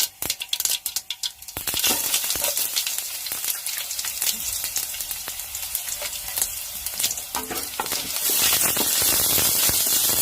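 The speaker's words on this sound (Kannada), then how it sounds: "ಸಾಸಿವೆ ಫುಲ್ ಚಟಪಟ ಆದಮೇಲೆ ನೋಡಿ ಬೆಳ್ಳುಳ್ಳಿ ಈರುಳ್ಳಿ ಕರಿಬೇವು ಒಣಮೆಣಸಿನ್ಕಾಯಿ ಅಷ್ಟೂ ಒಟ್ಟಿಗೆ ಹಾಕ್ತಾ ಇದ್ದೀನಿ" Garlic, onion, curry leaves and dry chillies hit hot oil with popped mustard seeds. A burst of sharp crackles turns into a loud, continuous close-up sizzle that grows even louder near the end, with no voices.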